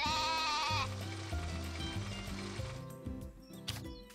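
Baby calf lowing in the farming game Story of Seasons: A Wonderful Life, a synthetic bleating moo sustained for about a second, followed by game background music and soft effects.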